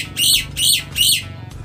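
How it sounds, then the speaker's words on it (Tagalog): A pet bird squawks loudly three times in a steady rhythm, each harsh call lasting about a quarter second, close to the microphone over a low background hum. "nagpapapansin na naman tong ibon natin."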